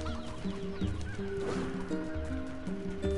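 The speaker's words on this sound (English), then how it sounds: "Chickens, where have you been hiding your eggs?" Chickens cluck in short, repeated bursts in a village in the video game NieR Replicant. The clucks come at a steady pace over a continuous game soundtrack, with no talk.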